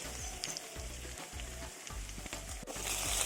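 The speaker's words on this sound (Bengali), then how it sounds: "কড়াইতে তেলের ওপর ভালো করে পেঁয়াজ দিয়ে ভেজে নিয়েছি।" Onions fry in hot oil in a kadai with a steady close sizzle, broken by rhythmic scraping strokes as they are stirred.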